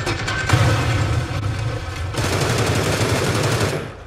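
Automatic gunfire in PUBG rattles in rapid continuous bursts, loud and near, with a brief pause and then another long sustained volley, no voices heard.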